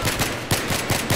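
Several sharp gunshots ring out in an irregular burst, fairly loud and close, with a dense, crackling game-like quality and no talking, in Battlefield 3.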